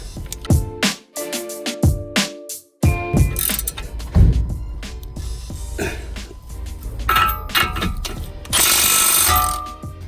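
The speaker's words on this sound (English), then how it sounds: "I'm going to use a vice grip for this because none of my sockets fitting here, so vice grip should do the job." A vice grip turns a tie rod end nut on a Vauxhall Astra, producing close metallic clicks, ratcheting and scraping in uneven bursts with short pauses, with no talking.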